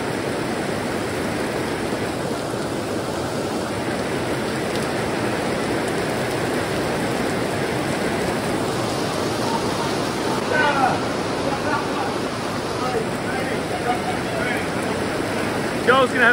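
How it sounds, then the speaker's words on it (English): Heavy rain pours down steadily at a racetrack, a dense, continuous roar of water that stays loud and even throughout, with only faint movement and no clear talk over it. "it's been raining now for about 15, 20 minutes and it ain't stopping"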